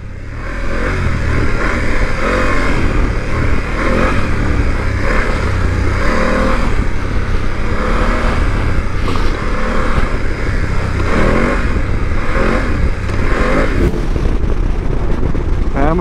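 A 2024 BMW F900GS Trophy adventure motorcycle rides along a highway, its engine hum blending with heavy wind rush in a loud, unbroken roar, and a rider speaks over it at times.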